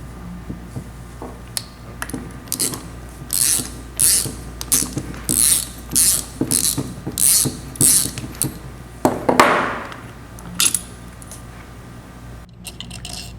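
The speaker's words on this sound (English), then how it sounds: "in order to pull the impulse coupling, you're going to have to install this puller, and it slides right in those grooves" A puller being fitted into the grooves of an impulse coupling and tightened down on an aircraft magneto during a 500-hour inspection, heard as a run of close metallic clicks and ratcheting taps, steady and evenly spaced, with no talking.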